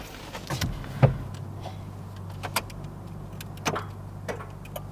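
A small car's engine fires up with a brief burst, then settles into a low, steady idle hum under scattered faint clicks and taps, fairly quiet and close.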